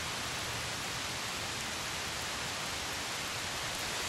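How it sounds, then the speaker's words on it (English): Heavy rain pours over a wet golf course outdoors, a steady loud broadband hiss with no pauses and no talk. "It's starting to rain hard again."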